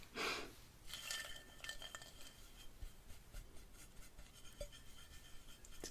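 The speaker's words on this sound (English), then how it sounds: "let's just stir that up with a brush" A thick candy mixture is stirred with a brush, giving soft scraping strokes and light clinks against the pot, with a sharper burst of scraping at the start and quieter, irregular stirring afterward.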